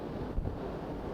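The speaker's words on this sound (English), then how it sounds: "It is very windy up here, so I'm sorry about the noise" Strong, steady wind buffeting a camera microphone outdoors at a windy high spot, a continuous low roar with a brief louder gust, no voices.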